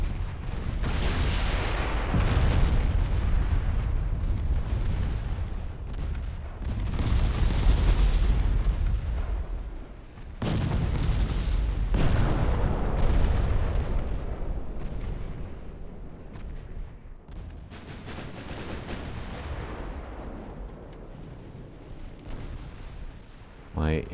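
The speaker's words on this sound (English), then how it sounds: "My heavy cruisers are slaughtering transports with the secondary guns." Heavy cruisers' secondary guns fire repeatedly in a naval warfare game, deep booming salvos rolling in waves with rumbling tails, loud and continuous, occasional quieter gaps between volleys.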